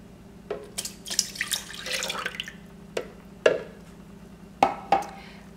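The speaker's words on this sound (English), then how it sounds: "What I'm putting in here are my liquids first. This is 1 3/4 cup of orange juice." One and three-quarter cups of orange juice poured into a blender for an orange strawberry ice, a short splashing pour followed by a few faint drips and clinks nearby, with no talking.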